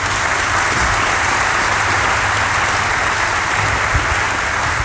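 A large audience at a Woodstock 2014 meeting with a band applauds in a dense, steady wash of clapping that stays loud and unbroken throughout.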